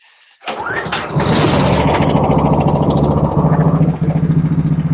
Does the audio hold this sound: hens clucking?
no